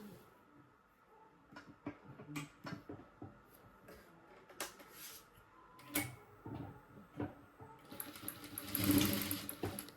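Sewing machine joining three blouse pieces into a patti, with short intermittent stitching taps and handling clicks, then a denser whirring burst near the end.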